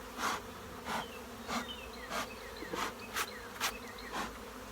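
Bees buzz around an open beehive, a continuous close hum with individual insects swelling past in repeated louder passes about every half second to second.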